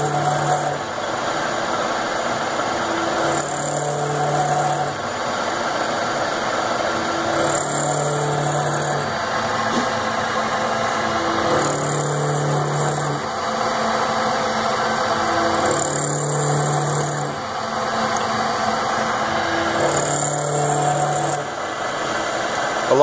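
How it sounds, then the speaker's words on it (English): Milling machine with an indexer cutting grooves into hobbed filament drive bolts for a Gigabot 3D printer, a steady mechanical hum with a tonal cutting whine that swells and fades in a regular cycle about every four seconds. "We're machining the hobbed bolts for the Gigabot today."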